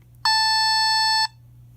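A Lego robot's built-in speaker gives a single loud, steady electronic beep lasting about one second as its light sensor detects white paper, with a faint low hum in the background and no talking.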